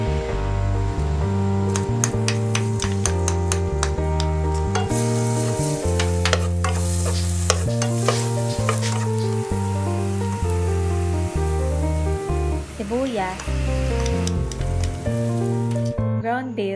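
Garlic sautéing in hot oil in a pan for a beans, corn and ground beef dish, giving a loud, steady sizzle and crackle throughout with no talking.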